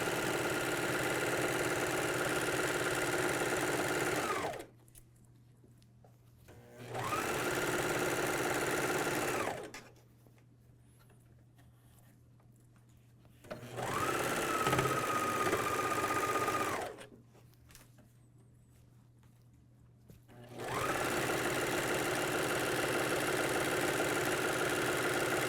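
A MyLock 454D serger stitches a straight 5/8 inch seam on a pajama top in three long, loud, steady bursts separated by quiet pauses, running fast and evenly each time.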